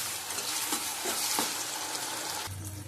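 Chicken with sour yogurt being stir-fried in a pan for biryani, a dense, continuous sizzle with stirring scrapes that suddenly drops off near the end, close and without speech.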